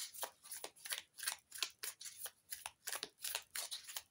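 A deck of tarot-style cards is shuffled by hand, giving about a dozen quick, crisp riffling bursts in steady rhythm, close and fairly quiet with no talk.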